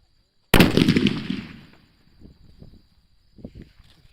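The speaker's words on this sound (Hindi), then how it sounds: "ये देखा भाई आपने क्या शानदार ब्लास्ट हुआ हमारा जो सुपर बुलेट बम था" A Super Bullet Bomb Diwali firecracker goes off in one sharp, loud blast, followed by a fading crackling rumble and a few faint pops afterward.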